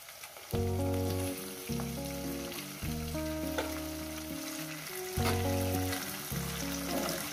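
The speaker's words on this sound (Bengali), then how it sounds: "এরপর দিয়ে দেবো আমি চিকেনের পিসগুলো দিয়ে আমি একটু ভেজে দেবো" Chicken pieces frying in a pan: a steady, close sizzle with crackling bursts that keeps going under looping background music, with no talk.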